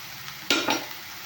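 Spices (turmeric, coriander powder and chili powder) sizzle in a hot pan for a ridge gourd gravy, with a couple of brief stirring scrapes, close by, over a faint background hiss.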